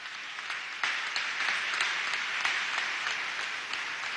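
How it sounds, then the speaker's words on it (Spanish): Audience applause at a gubernatorial swearing-in ceremony in Guárico, a steady, moderately distant wash of clapping with a few sharper claps standing out, continuous through the whole stretch. "Para él pido un aplauso"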